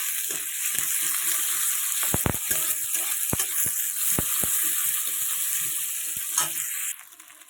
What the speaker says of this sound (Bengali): তারপর পেঁয়াজ কুচি আর কাঁচা লঙ্কা কুচি এগুলো দিয়ে পেঁয়াজটাকে প্রথমে একটু ভেজে নিই।